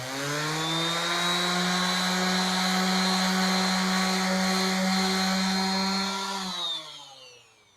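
Random orbital sander tipped forward on its front edge like an angle grinder, giving a loud, steady motor whine with a strong tonal hum held for about six seconds before it winds down. No talking.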